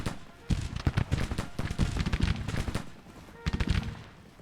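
Musket fire from Civil War infantry in the strategy game Grand Tactician, heard as ragged volleys of sharp cracks that come in quick irregular bursts, pause briefly, then crackle again.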